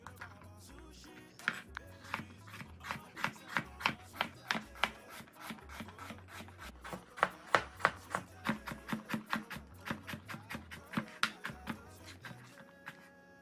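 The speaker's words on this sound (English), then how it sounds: "We'll then go ahead and cut it into smaller pieces to help our blender." A knife chops coconut meat into smaller pieces on a cutting board: a long run of quick, crisp, fairly steady knocks, close and moderately loud, with no talking.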